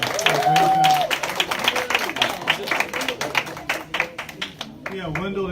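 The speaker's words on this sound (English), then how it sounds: "Let's give him a big round of applause as well." A round of applause at a Texas Southern University event, with individual claps standing out irregularly against a voice and some tonal sounds, fading into sparse clapping near the end.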